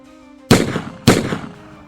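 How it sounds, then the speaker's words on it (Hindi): Two sharp gunshots ring out about half a second apart, loud and close, each with a short decaying echo over a quiet hum. "2 गोलियां दोनों की छाती चीरती हुई निकल जाती हैं।"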